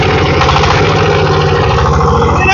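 A Changfa diesel engine runs steadily nearby with a loud, even chugging beat and a rough mechanical drone that holds at a constant pace throughout.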